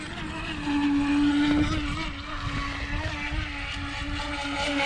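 A small electric RC boat motor on a 3S battery whines steadily with a droning buzz, water sloshing underneath, constant and close throughout.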